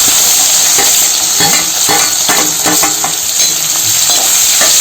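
Onion frying in a pan with fenugreek (methi) in a home kitchen, giving a loud steady sizzle with bursts of spatula stirring and scraping and no talking.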